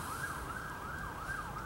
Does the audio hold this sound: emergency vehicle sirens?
yes